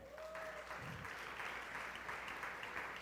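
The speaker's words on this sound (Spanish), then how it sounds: "Un aplauso para ellos" Applause from a church congregation fills the space, a steady wash of many hands clapping at moderate distance, with a brief murmur of voices near the start.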